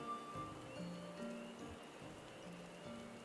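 Rain falling in a Final Fantasy XIV field under trees, a soft steady patter that carries on evenly beneath faint game music tones.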